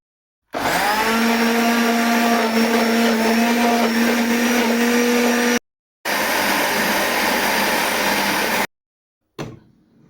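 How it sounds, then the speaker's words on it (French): A kitchen blender grinds ginger with pepper and anise seasoning, a loud close whirring motor running steadily, stopping briefly, restarting, then cutting off with a short final burst. "Je vais mixer le tout."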